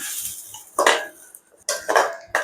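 A spoon scrapes and knocks in a pan as ginger garlic paste is stirred into an egg and drumstick curry, in three separate bursts of metallic clatter with short quiet gaps between them.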